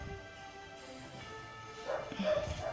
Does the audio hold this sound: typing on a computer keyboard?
no